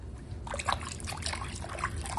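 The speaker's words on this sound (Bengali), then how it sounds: "চলো মাছটা ধুয়ে পরিষ্কার করে নিয়ে আসি" Running water trickles and splashes steadily as a fish is rinsed clean under the stream, a close, continuous liquid wash with no speech.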